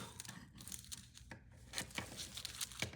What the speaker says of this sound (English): I just usually cut a big chunk off